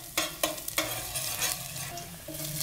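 Garlic sautés in a little oil in a pot for chicken tinola, a steady sizzle with a few sharp scraping taps from stirring near the start.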